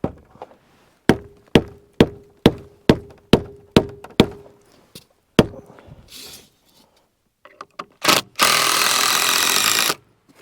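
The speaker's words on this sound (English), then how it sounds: "get that screwed on." Sharp, regular knocks ring out about nine times in a steady rhythm, close and loud, as a screw is driven during an ICF concrete floor build for a boat-themed cabin, followed by scattered clunks and a brief burst of a power driver.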